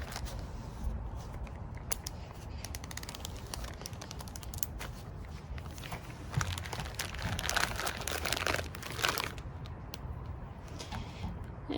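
Plastic bag crinkling and rustling steadily as a freshly tie-dyed T-shirt is sealed inside, with a louder burst of crumpling near the end and no talking.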